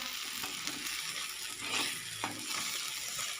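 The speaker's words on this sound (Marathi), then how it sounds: "आता पुन्हा एकदा आपण सगळा मसाला एकत्र करूया आणि छान मिक्स करूया" Masala spice mix being stirred and mixed in hot oil while cooking a Maharashtrian matki usal: a steady close sizzle with a few spoon scrapes, no talking.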